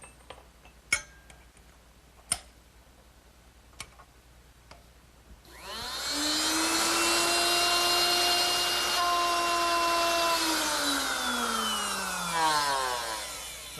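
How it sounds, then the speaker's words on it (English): A router fitted with a dovetail bit cuts through wood, spinning up after a few light clicks and taps into a loud, sustained high whine that dips in pitch under load before winding down. "now I can replace this straight cutter with the dovetail bit, and that should make it a lot easier to cut"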